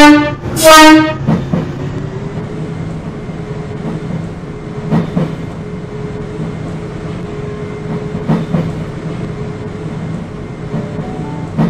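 Train sounds at a station platform: a loud horn blast near the start, then a steady rumbling run with a sustained tone and periodic clattering thumps as the carriages pass close by, with no talking.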